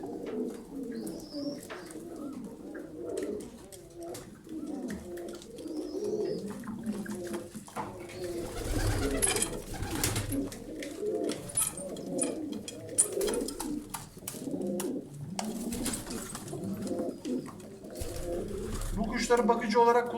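Several pigeons coo steadily in a loft, their soft rolling calls layered close by, while someone talks over them throughout and a dog or other bird is faintly heard.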